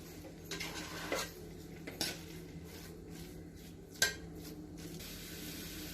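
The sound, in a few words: stirring pasta paste of tomato puree and eggs in pan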